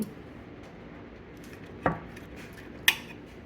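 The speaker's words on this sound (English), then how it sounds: "And then we're going to slice into this delicious hamburger steak." A knife cuts into a cooked hamburger steak on a plate, giving two sharp, separate clicks about a second apart over quiet kitchen room tone.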